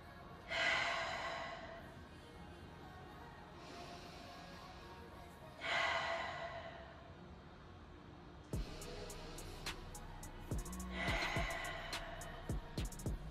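Slow, deep breaths during a yoga flow, three long audible inhales and exhales spaced a few seconds apart, followed by soft clicks and light movement noise.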